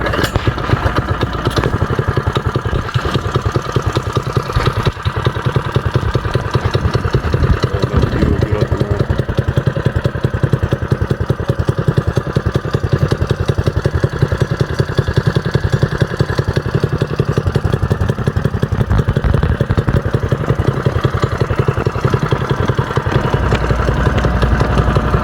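A small restored mini bike engine with an untuned carburetor idles steadily and close for the whole stretch, a constant loud rattling putter.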